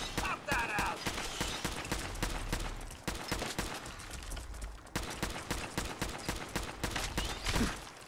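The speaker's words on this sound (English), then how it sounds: "about the only gun that holds up is this assault rifle right now" Rapid assault rifle bursts in Fallout 4 crackle in a steady, dense volley, loud and close, continuing through the whole stretch with only brief gaps.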